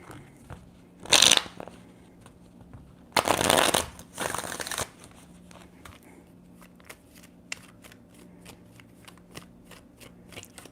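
Tarot cards are shuffled in three quick riffling bursts, close and crisp, followed by faint scattered taps and handling sounds in a quiet room.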